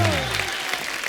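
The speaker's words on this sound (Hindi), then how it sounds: "ओए ठोको ताली ठोको।" A studio audience at a talk show claps in a brief, dense burst of applause, fairly close and filling the moment.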